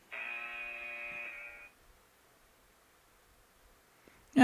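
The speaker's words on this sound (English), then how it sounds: "the timer's about to go off" An electronic kitchen-style timer goes off with a single steady buzzing tone lasting about a second and a half. Near-silence follows.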